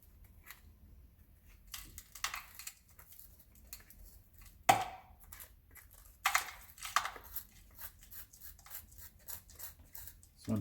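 Small, sharp scraping and crinkling sounds as clay is dug out of a firework shell with a plastic tool, irregular scratchy bursts close up and fairly quiet, separated by pauses with a few louder clicks.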